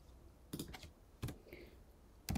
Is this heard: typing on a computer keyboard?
yes